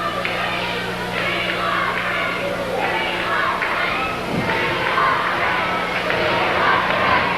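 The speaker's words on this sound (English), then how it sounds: "Some of the crowd shouting USA" A 1985 Portland wrestling crowd chanting USA in a steady rhythmic pattern, the repeated chant carrying over a broad arena hubbub with a low constant hum.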